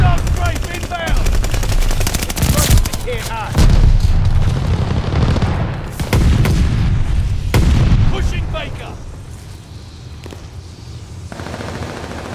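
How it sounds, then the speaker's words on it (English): Enemy aircraft strafing in the video game Call of Duty Vanguard: loud, rapid bursts of machine-gun fire mixed with heavy booms and explosions, rising and falling over several seconds before a quieter tail. "Hostile strafe inbound."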